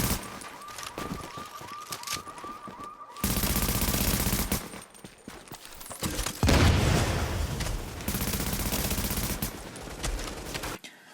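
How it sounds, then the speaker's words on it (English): Rapid gunfire bursts from enemy players in a Dark Zone firefight in The Division, loud and sustained across several volleys with short pauses between them, with no talk. "now that these guys are shooting at me"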